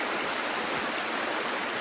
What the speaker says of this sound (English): all I could hear was this creek here